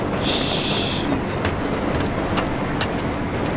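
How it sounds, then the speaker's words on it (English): A moving train rumbles steadily and loudly in the video game Battlefield 3, with a hissing burst early on and sharp clanks above the constant roar. "Almost just fell right off the gosh damn train."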